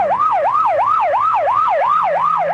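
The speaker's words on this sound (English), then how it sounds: "You know it's a police car or ambulance on the way to or from an emergency in which someone is badly hurt." A police car or ambulance siren wails in fast, even up-and-down cycles, loud and continuous with nothing else over it.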